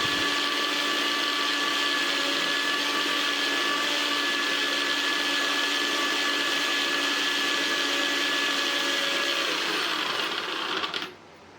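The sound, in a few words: mixer grinder grinding onion and garlic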